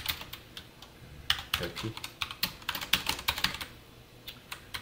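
Code is typed on a computer keyboard in a steady run of crisp, close keystrokes, with faster clusters in the middle and sparser taps at the start and end, and no talking.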